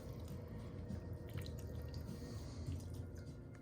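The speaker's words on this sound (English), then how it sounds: "So I'm adding some of that pasta water right now." Starchy pasta water is poured into a sausage casserole, a low, steady splashing and trickling that runs continuously without a break.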